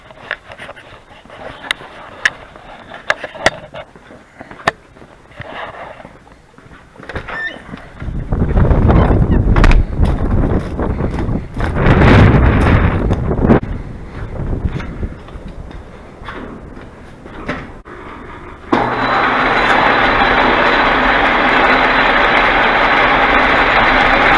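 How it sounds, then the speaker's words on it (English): A shop lathe spins up and runs steadily while trimming radiator parts, a loud continuous whir and rumble taking over after sporadic clicks and handling noises, ending in a brighter, sustained running tone. "we're going to go over to the lathe and trim these up so they're not quite so ugly."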